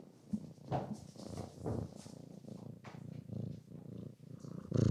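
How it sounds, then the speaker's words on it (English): A cat purring up close, a steady low rumbling throb that swells and fades with each breath, with a few soft rustling bumps as it rubs its face on the microphone. "it was purring, and then it rubbed its face on the microphone"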